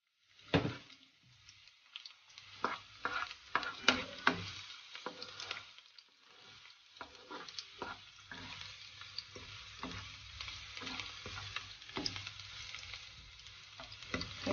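Garlic frying in olive oil for a bitter melon dish gives a soft, quiet sizzle that runs throughout, dotted with scattered small pops and light clicks.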